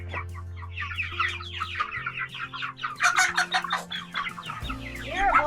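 Hens and tiny chicks cluck and cheep close by in an off-grid farmyard, a dense, continuous chatter of overlapping calls with busier bursts toward the end.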